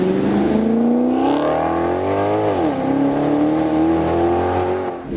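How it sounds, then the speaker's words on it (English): A Maserati GranTurismo with a Ferrari-built V8 revs loudly nearby, its tone climbing, dipping sharply mid-way, then rising again in a smooth, throaty howl. "This car has a Ferrari V8 engine that sounds like Jesus himself would come down and lick your ear."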